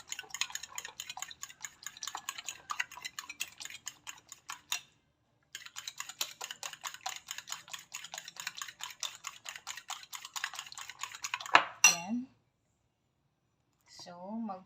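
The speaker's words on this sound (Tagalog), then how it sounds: "So, i-mix muna natin ang ating itlog" Eggs whisked by hand in a bowl for sautéed bitter gourd, giving a fast, steady run of light clicking strokes that pauses briefly, then resumes before ending in a clank.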